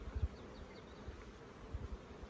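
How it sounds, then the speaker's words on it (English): Honey bees on a brood frame pulled from a hive give a faint, low, continuous buzz with a few soft bumps of handling noise, heard close with no talking. "Wow, these bees are amazing."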